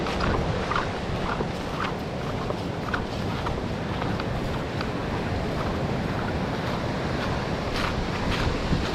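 Rough sea with waves churning and washing continuously alongside steady wind noise buffeting the microphone, with no clear voices.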